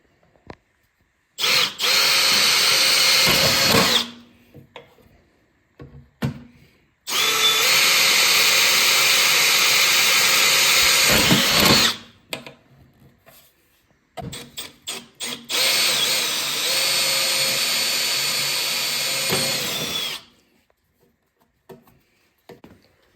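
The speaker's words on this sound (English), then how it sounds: "we drilled the 3 holes here for the rivets" A power drill bores rivet holes through a snowmobile tunnel on a sled during a pre-season tune-up. It makes three loud, sustained whining bursts of several seconds each, separated by short pauses with clicks and handling sounds. No one speaks.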